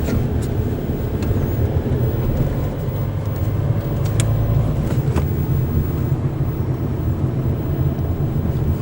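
A grey Renault 30 drives along with a steady, loud low engine and road rumble that holds evenly throughout, with a few faint higher clicks and knocks above it.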